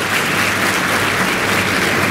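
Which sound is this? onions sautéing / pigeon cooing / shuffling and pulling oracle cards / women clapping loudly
women clapping loudly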